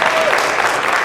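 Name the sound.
audience applause for alumni speakers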